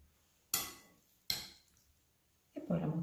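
Broccoli going into a dish with a utensil: two sharp clinks of metal against a pan or bowl, each trailing off, then a soft rustling scrape at the end.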